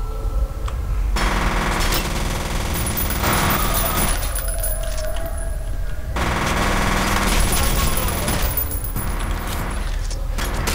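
Machine gun fire in the shooter game F.E.A.R., sustained and loud in bursts with short breaks, layered over game music and effects, with no talking.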